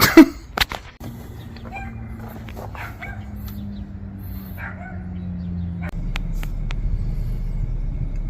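A Ford Explorer ST with a twin-turbo engine idles and rolls back off ramps, a low steady hum that swells slightly toward the end, with a dog barking sharply near the start and scattered clicks.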